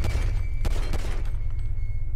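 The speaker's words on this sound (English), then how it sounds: "I'm just gonna shoot it." Rapid burst of gunfire in GTA 5, shots aimed at a control panel, a dense volley of sharp cracks over a steady loud game background hum.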